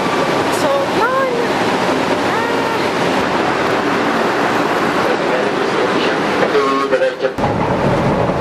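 An MRT metro train rumbles steadily with broad rushing noise and faint squeals of wheels, heard from inside or beside it, with some talking mixed in.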